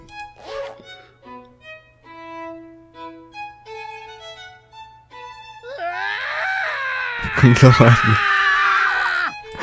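A character in the game Kelvin and the Infamous Machine lets out a long, loud, wavering scream that swells near the end, after a stretch of quiet melodic tones; a voice speaks briefly beforehand.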